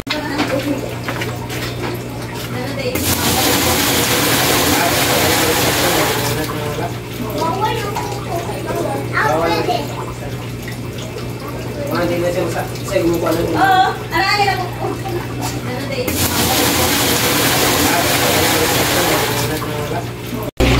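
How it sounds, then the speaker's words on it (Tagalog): Water pouring from a hose or tap into a fish tank made from a recycled refrigerator, a loud continuous splashing gush that stops and restarts, with someone talking in between. "So ito is lalagyan na natin ng tubig."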